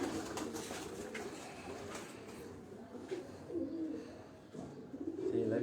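Breeder pigeons coo in low, throaty repeated calls close by, with a steady background hum and occasional rustling.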